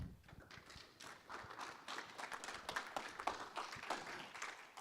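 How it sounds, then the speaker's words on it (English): Soft, steady applause from a conference audience, a dense patter of many hands clapping at moderate volume without any cheering. "Muted after lunch coma applause."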